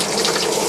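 Cold water runs steadily from a shower tap inside a Winnebago Class C gas motorhome, a continuous hissing gush filling the short moment without pause, close and fairly loud.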